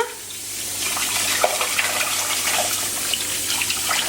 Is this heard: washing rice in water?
yes